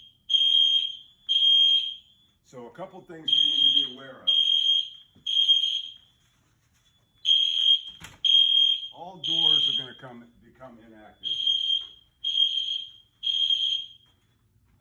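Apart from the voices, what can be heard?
building fire alarm ringing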